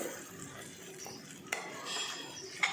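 A metal spoon stirs ground masala in oil for a chicken curry, giving soft continuous scraping against the pan with a few sharp clinks, close and with no talk.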